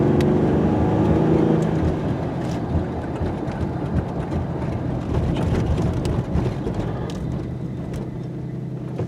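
A Ford Ranger truck drives in second gear with a steady, loud engine drone and road rumble. The sound stays close and fairly constant, with no talk.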